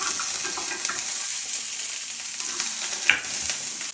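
Chopped onion sizzles steadily in hot oil on a tava griddle for an egg sandwich, a close, continuous frying hiss with a brief utensil clatter near the end.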